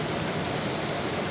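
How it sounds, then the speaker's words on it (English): Water pours over Lynn Glen Falls in Ayrshire in a steady, dense rushing roar, even and unbroken throughout a brief moment, close and fairly strong. "I like the way the water's flowing out to each edge."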